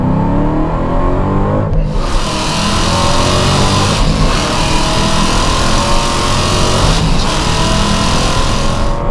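A Hennessey HPE850 Hellcat accelerates hard with a loud, sustained engine roar, and brief dips in the sound mark quick no-lift upshifts, including the shift from third to fourth.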